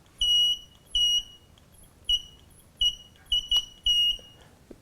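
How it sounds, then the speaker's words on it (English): A Meikon XT1 underwater camera housing's water-leak alarm emits a series of short, shrill electronic beeps, about seven bursts spaced irregularly over five seconds, close and clear over a quiet background. "There is also a security system which will beep and make a red light if water comes into it."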